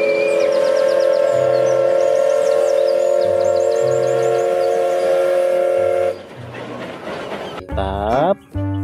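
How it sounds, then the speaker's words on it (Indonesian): A Thomas toy train sounds a sustained, loud steady whistle tone with a rhythmic rattling underneath, then cuts off into a short burst of mechanical clatter and a rising toy sound. "Kereta api Thomas."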